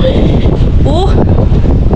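Steady wind blowing outdoors on a gusty day, a constant broadband rush of wind noise against the microphone that runs throughout, with faint background sounds mixed in.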